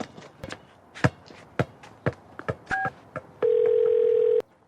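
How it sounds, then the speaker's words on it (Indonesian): A phone call being placed: a series of short tapping keypad tones, then a steady held tone as the line connects, fairly loud and close with no voices. "aku telepon Lin Yusi sekarang"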